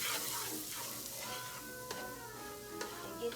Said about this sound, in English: So we add those to the pot. And then we just let them saute.